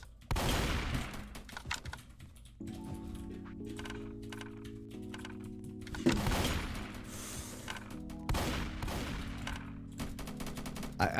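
Rapid bursts of gunfire from the Roblox shooter Strucid during a duos box fight, with clustered shots and a sustained tonal hum of game effects between volleys.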